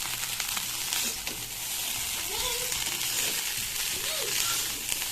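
Egg fried rice sizzles steadily in a hot pan, a continuous close frying hiss with occasional stirring scrapes and no talking.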